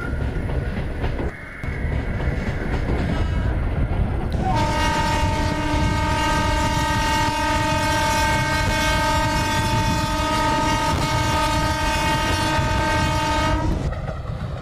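Simulated EMU local train running between Sealdah and Dankuni in the Open Rails simulator: a steady rumble of wheels and motors, with a long sustained multi-tone horn blast through the middle of the run before it cuts off.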